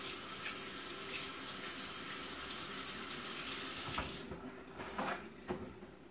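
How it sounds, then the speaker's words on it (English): Tap water runs steadily into a sink during handwashing in a home kitchen while baking shortbread, a continuous close splashing stream that thins out near the end with a few brief knocks. "let me just wash my hands"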